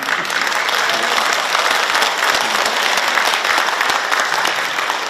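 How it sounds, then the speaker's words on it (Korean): At a book launch event in Korea, a standing crowd gives dense, even applause that runs steadily throughout, with no voices audible over it. "제 친한 친구 전라남도 교육감 김대중 교육감이 오셨는데 자 한번 일어나서 박수 한번 드리겠습니다."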